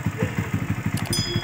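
A Yamaha Sniper V2 motorcycle with a 59mm bore and racing cams idles close by, its engine a steady rhythmic low throb pulsing several times a second, with a voice briefly talking over it.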